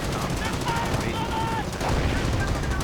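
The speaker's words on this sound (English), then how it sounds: "Lots of artillery going right into the base." Artillery and gunfire in a World War II tank battle video game, dense rapid shots and booms layered thickly over a commentator's voice.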